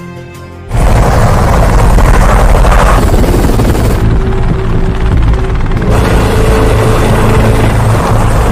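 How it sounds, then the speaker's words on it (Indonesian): Two aircraft fly in with a loud, roaring rotor-like drone that bursts in after a brief quieter start and stays strong and close, shifting slightly in tone as they pass. "Namun tiba-tiba saja 2 pesawat telah datang menghampirinya"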